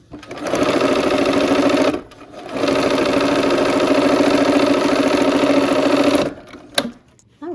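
Domestic sewing machine stitching a quarter-inch quilt seam, a fast steady mechanical whir in two bursts separated by a short pause, close and fairly loud, ending with a small clunk.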